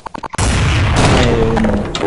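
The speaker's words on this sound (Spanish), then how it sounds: "Dispara y metes una flash." A flashbang grenade detonates in Counter-Strike 1.6, a sudden loud burst after a few sharp preceding clicks or shots, followed by a sustained ringing roar that lingers and slowly fades.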